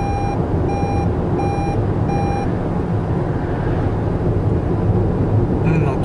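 A Toyota RAV4 plug-in hybrid sounds its overspeed warning, four evenly spaced bright beeps at the start over steady road and cabin rumble, with the car driving on after the beeps stop.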